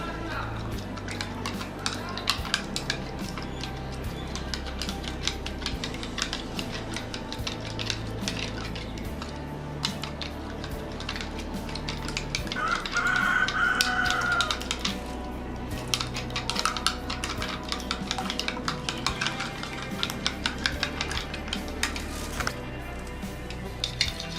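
Aloe vera hair oil serum is stirred and blended in a bowl, with steady clinking and scraping of a utensil against the dish running continuously at close range, with no talking.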